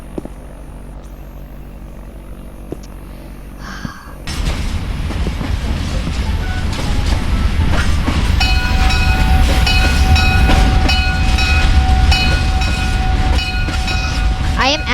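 A train in the Roblox game Mad City passing close by, starting quietly and then swelling into a loud sustained rumble and clatter with ringing tonal whistle-like overtones that hold to the end.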